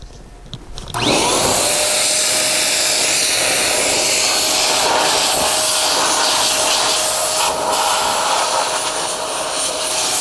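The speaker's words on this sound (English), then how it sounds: "And then dry the wheel normally with forced air." Forced-air blower drying a cleaned car wheel, rotor and braking system, starting abruptly after a second and then holding a steady, loud, broadband rushing roar with a faint whine, continuous throughout with no talking.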